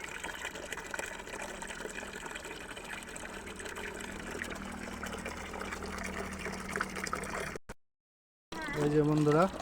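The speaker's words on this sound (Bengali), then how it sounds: "পানি ভরতেছে, এরপরে দিব পানি" Water runs from a storage tank into a container for pigeons, a steady rushing pour that continues for several seconds, breaks off in a short silence, then returns with a voice speaking over it.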